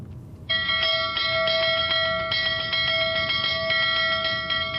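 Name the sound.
ship's warning bell rung three times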